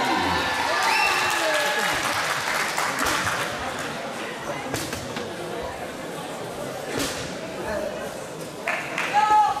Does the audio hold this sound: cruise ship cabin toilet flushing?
no